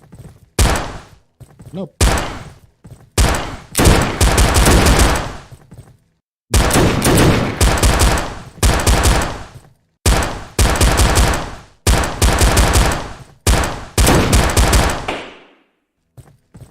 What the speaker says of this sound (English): He is actually shooting.